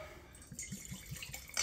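Ciroc Summer Citrus vodka poured into a wine glass, a short run of soft liquid splashes and drips, close and faint.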